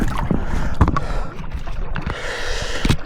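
Paddles splash and knock against a small bangka fishing boat off Lobo, Batangas, in an irregular rhythm, close by, with steady water noise and breathing.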